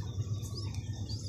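Pigeons at a pigeon loft make soft, continuous low cooing that runs steadily through the whole moment, with faint higher chirps above it and no talking.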